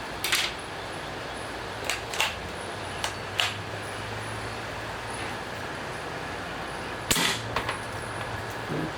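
A Daisy Model 95 BB air rifle fired one shot at a time, about six sharp cracks spread out at unhurried intervals, heard outdoors over steady traffic-like background noise.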